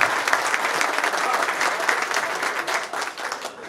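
Audience applause at a public pool inauguration in São Vicente, Artur Nogueira, a dense, steady wash of clapping from a crowd, loud and close, lasting the whole stretch with no voices over it.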